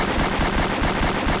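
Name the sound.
gunfire in Roblox Liberty County video game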